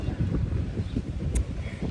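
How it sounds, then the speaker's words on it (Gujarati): Wind blows outdoors on a winter day, buffeting the microphone with a steady low rumble and gusty roar throughout. "સિરિયસલી મસ્ત પવન આવે છે"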